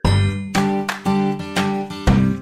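A bright notification bell rings several times in quick succession, clear and close, each ding ringing out briefly before the next.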